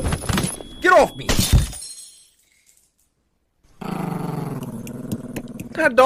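A dog growls and attacks in a horror video game, snarling bursts with crashing impacts, then a silent gap before a tense ambient rumble returns; a voice talks over the opening.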